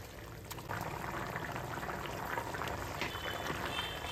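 Mutton bone broth boiling in a pot on a stove, a steady close bubbling and simmering wash that runs continuously with no talk.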